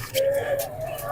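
Pigeons coo at the Lahore lari adda pigeon market, a soft throaty call heard close amid market bustle and a nearby voice.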